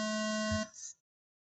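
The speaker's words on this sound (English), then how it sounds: "Sound of the tone." A loud electronic race start tone at an off-road race sounds for about half a second and cuts off, followed by a brief fading higher-pitched beep.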